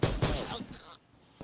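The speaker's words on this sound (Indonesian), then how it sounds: "Bagaimana sih pistol cuma tembak satu kali?" Pistol shots in the Roblox game Arsenal: two sharp, close cracks in quick succession at the start, then a faint tail and another soft hit near the end, with some speech-like sound mixed in.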